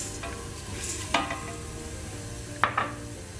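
Rice being stirred with fried onion, garlic and oil in a pan, a steady soft sizzle with a few sharp scrapes of the spoon against the pan, close and alone without talk.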